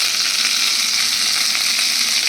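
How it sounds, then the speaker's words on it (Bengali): Pieces of taro frying in oil in a wok, a loud, dense, continuous hiss of sizzling oil with steady crackle, close up and with no voices. "আমি এই কড়াইয়ের মধ্যে কচুগুলোকে ভালো করে ভেজে নেব।"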